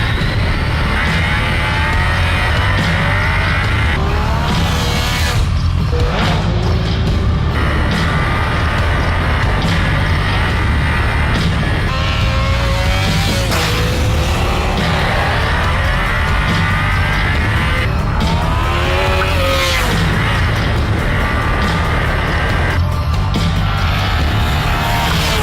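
A 2014 Yamaha FZ-09 motorcycle is ridden hard, its engine screaming through repeated rising revs and sharp gear changes, close and loud, with wind roar underneath throughout.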